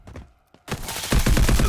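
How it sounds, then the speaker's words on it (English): Gunfire in the shooter game Delta Force: a few sharp distant shots, a brief lull, then a loud, close burst of rapid automatic fire that continues to the end. "It's gonna shoot you from that window."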